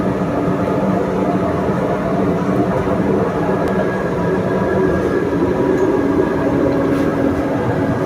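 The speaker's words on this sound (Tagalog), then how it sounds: "MRT." A moving MRT metro train rumbles steadily from inside, a loud continuous roar of wheels and motors with a faint high whine, unbroken throughout.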